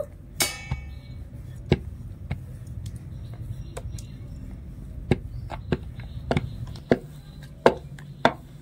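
A rolling pin works flattened nimki dough of flour and ghee on a board, giving irregular, sharp wooden knocks and taps over a low background murmur, with no speech.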